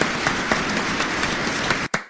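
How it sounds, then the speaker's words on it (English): Sustained applause from an audience at a political speech, steady dense clapping that cuts out briefly near the end and then returns. "Stop clapping. Do not stop clapping."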